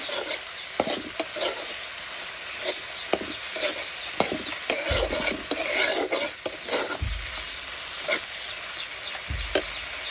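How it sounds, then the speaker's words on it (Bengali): Potatoes with tomato, green chilli, cumin, ginger, turmeric, salt and spices sauté in a pan, a steady close sizzle punctuated by frequent scraping and knocking strokes of a spoon against the pan, with no voices. "টমেটো এবং কাঁচামরিচ জিরে আদা সব ধরনের হলুদ লবণ সব মশলাগুলো সুন্দর করে কষিয়ে নিচ্ছি"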